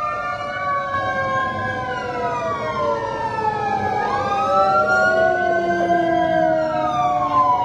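Fire truck siren at a building fire in Quezon City, loud and close, with wailing tones sweeping up and down and overlapping one another, layered over a low rumble of the truck's engine.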